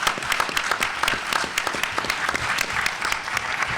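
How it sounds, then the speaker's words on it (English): Audience at a panel event on women, violence and gun control applauding a speaker, dense sustained clapping from a crowd at steady loudness for several seconds. "Please give her a warm round of applause"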